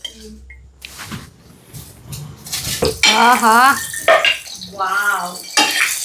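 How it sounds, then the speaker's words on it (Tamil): Murtabak fries in oil on a pan with a steady low sizzle, while utensils clink and scrape against cookware; a voice talks over the cooking for much of the time. "இந்த மாதிரி எண்ணெயை ஊற்றி சுடும் போது தான் அது முடுத்தாப்பா மாதிரியான ஒரு ஃபீல் கொடுக்கும்"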